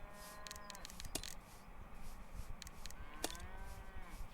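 A cow moos several times in the video game Beware of the Cartographer, drawn-out lowing calls over a soft outdoor ambience, moderately close and fairly quiet.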